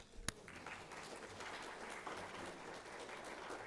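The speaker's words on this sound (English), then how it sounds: "So I think you need to give yourself some applause." Church congregation in Marietta applauding during a service, a sustained wash of many hands clapping at moderate distance, fairly quiet, opening with one sharp nearby clap.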